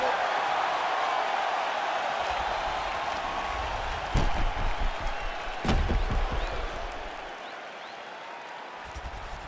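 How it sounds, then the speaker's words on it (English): An arena crowd in a UFC video game fight roars and applauds in a steady wash of noise, with a few sharp thumps and a commentator's voice over it. "the crowd voicing its appreciation after that crazy sequence in the previous round"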